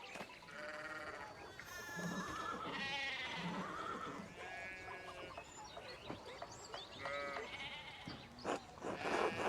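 Sheep bleat repeatedly in the medieval village of the video game Pentiment, several overlapping calls of varying pitch close by against a busy farmyard backdrop with faint bird chirps.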